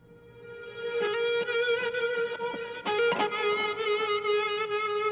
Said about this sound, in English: Let's just solo this guitar, because this is my favorite part here in this song, is this guitar.